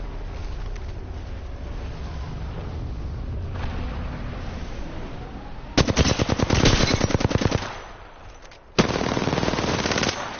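Rapid automatic gunfire in a battle royale shooter, loud close bursts of machine-gun fire breaking off and resuming after a pause, over a background of game ambience.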